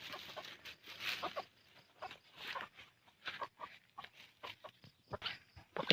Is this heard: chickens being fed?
yes